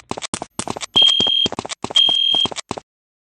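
A fire alarm sounds in two sustained electronic tones amid a clatter of hurried footsteps and movement, fairly loud and close.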